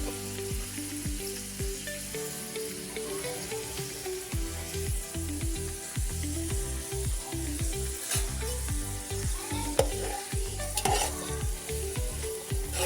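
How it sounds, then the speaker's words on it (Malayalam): Onions sizzle and fry in a pan for a homestyle chicken kadai, with steady spoon stirring scraping and clattering in a repeated rhythm, close and fairly loud throughout with no talking. "ഉള്ളി വാട്ടാനേ ഉള്ളി ഇങ്ങനെ വാട്ടിയെടുക്കണം"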